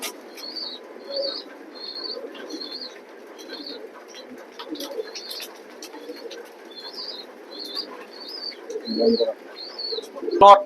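A male pigeon coos repeatedly in a steady, rhythmic series of soft, close calls, with someone speaking quietly underneath and a few faint thumps near the end.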